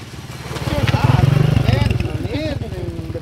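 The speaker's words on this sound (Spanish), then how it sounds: "solo que pase una moto" A motorcycle engine droning steadily nearby on a rural roadside, its buzzing rumble rising slightly as it passes, mixed with people talking and chickens or birds calling.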